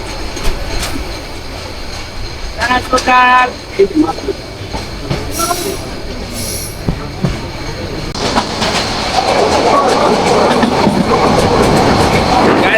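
A train on the Brahmanbaria–Comilla line in Bangladesh rumbles along the rails close by, with wheel squeals and clattering, the rolling noise growing heavier and steadier toward the end.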